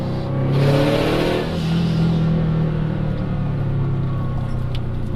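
A Subaru with an external wastegate accelerates hard, its engine note rising under throttle with a rushing exhaust and turbo whoosh, loud and close from inside the car with no voices.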